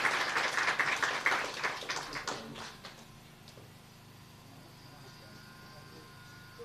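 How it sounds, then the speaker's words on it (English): An audience applauds a speaker at a Lions Club event with a round of scattered clapping that is fairly loud at first and then fades away into quiet room noise within about three seconds. "So please give a big round of applause for my brother, Lion Arun Tokchom."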